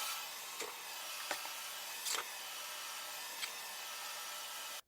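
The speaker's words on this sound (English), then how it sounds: "we'll turn the vacuum on" A steady, loud broadband whir of a vacuum cleaner removing ashes from a masonry fireplace floor runs throughout, with a few brief clunks and scrapes on top, then cuts off abruptly at the end.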